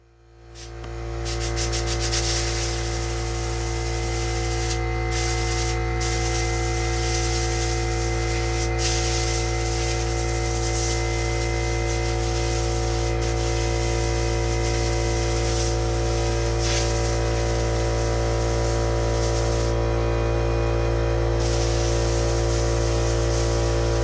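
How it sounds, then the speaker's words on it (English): Dust and rocks being blown out of garage floor cracks before epoxy work, a loud, steady, close rushing hiss that runs unbroken for over twenty seconds. "here all we're doing is blowing out all the dust and rocks and stuff in those cracks so it's clean"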